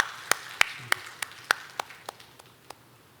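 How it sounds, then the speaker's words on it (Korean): Sparse clapping during a church worship service, about ten sharp, distinct claps spaced out and gradually thinning and fading, with no continuous crowd roar. "우리 주님께 영광의 박수 올리겠습니다."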